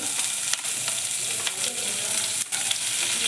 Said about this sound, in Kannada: ಎಣ್ಣೆ ಕಾಯ್ತಾ ಇದೆ. ಸ್ವಲ್ಪ ಸಾಸಿವೆ ಮತ್ತು ಹಸಿಮೆಣಸಿನ್ಕಾಯಿ ಕಟ್ ಮಾಡ್ಕೊಂಡಿದ್ದೀವಲ್ಲ ಅದು